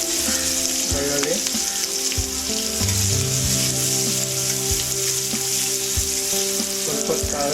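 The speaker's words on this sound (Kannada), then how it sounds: "ಸ್ವಲ್ಪ ಕಾಯಿಸಿದ್ರೆ ಬೆಳ್ಳುಳ್ಳಿ ಕೆಂಪಾಗ್ತವೆ" Garlic frying in hot oil for girmitt, with chillies in the pan, a loud continuous close sizzle with faint stirring scrapes and no talking.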